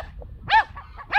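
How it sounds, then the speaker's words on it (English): A dog barks twice, close and loud: a short yelp-like bark, then a second bark starting at the very end, with quiet pauses between them. "That bark, though. That bark."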